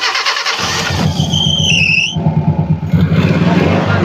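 Mitsubishi T120SS minibus from the 1990s, a carbureted 'cegur' engine, cranking with a high starter whine before catching and settling into a steady, close, loud idle.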